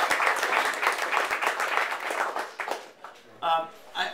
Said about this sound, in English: you can clap for yourselves if you like